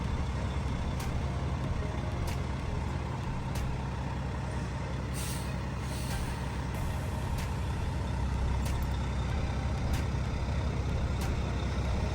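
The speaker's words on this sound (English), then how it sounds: "Now we'll move the truck forward again" A truck creeps forward slowly while tire chains are being fitted, its engine giving a steady low rumble throughout, with a few sharp hissing bursts from the air brakes along the way.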